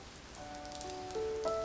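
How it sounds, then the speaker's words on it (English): Artificial rain pattering steadily onto microphones and a film set for a musical, a soft continuous patter with faint tonal hums sitting underneath, no voices. "All we heard was the rain dropping onto microphones and onto the set"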